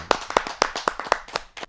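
A small audience at a Hindi poetry gathering claps for a poet, giving a brief sparse burst of sharp, close handclaps at an uneven rhythm.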